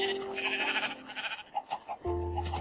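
Several Minecraft sheep bleat in short, wavering calls, close and fairly loud over soft game ambience, with a few distinct bleats spread across the moment and no talking.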